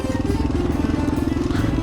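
A Honda XL 500 R dirt bike engine thumps with a rapid, steady pulsing chug while riding, loud and close throughout.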